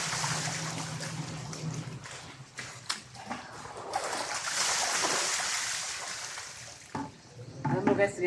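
Water splashing and running while soap suds are rinsed off by hand outdoors, a steady broad wash with intermittent splatters, fairly close.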